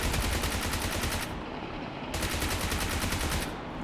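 Bursts of automatic gunfire in a PUBG fight near apartments, rapid dense rattling volleys that break off briefly and resume, loud and close with no talking.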